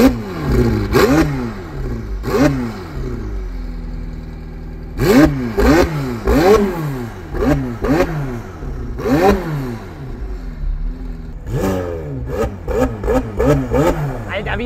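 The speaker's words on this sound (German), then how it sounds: "Wir starten das Ding jetzt mal und dann schauen wir mal, wie der hier so klingt." A McLaren 765LT sports car tuned to 1100 horsepower fires up and is revved hard several times, loud and close, each sharp rise in pitch dropping back to a rumbling idle between blips.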